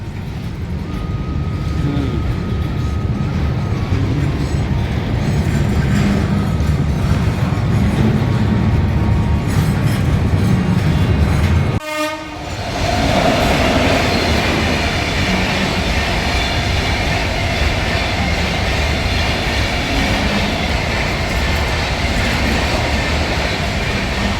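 A train rolls by loudly with a continuous rumbling roar and rhythmic clatter, a brief gap midway before the carriages keep thundering past.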